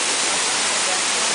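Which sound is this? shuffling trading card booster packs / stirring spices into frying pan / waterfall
waterfall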